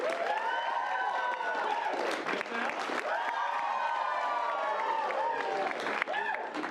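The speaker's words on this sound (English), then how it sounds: "hoop and holler and applaud the loudest" An audience at an improv comedy show applauds and whoops, with broad clapping mixed with sustained cheering and holler-like voices rising and falling over several seconds.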